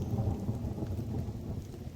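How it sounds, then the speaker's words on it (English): Thunder rumbles low and steady beneath rainfall pattering on a surface at a camp site, a continuous dense wash of storm sound with no voices. "Yep, that was thunder."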